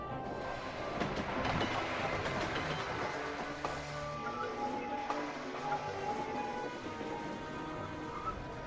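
Diesel engines haul a works train along in a cartoon setting, with a continuous loud rolling rumble and clatter mixed with tonal sound.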